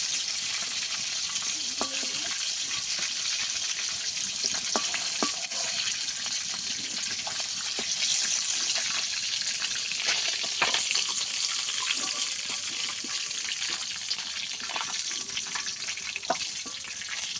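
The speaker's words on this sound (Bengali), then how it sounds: "ভাজার তেলের মধ্যে বেগুনটাকে ভেজে নেব" Eggplant pieces frying in plenty of oil for a tuna fish curry, a continuous close crackling sizzle with scattered pops and occasional light clicks of a utensil.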